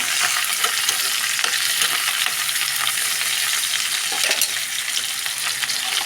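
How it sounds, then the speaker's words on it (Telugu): Green chillies frying in hot oil make a continuous crackling sizzle, with stirring scrapes and small pops running throughout at close range. "పచ్చిమిరకాయలు కూడా కొంచెం నూనెలో వేగాలండి"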